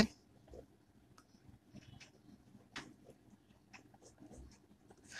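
A pen scratching across paper while solving a higher-math infinite-series problem, with soft, quiet strokes and small taps coming in short irregular bursts over faint room noise.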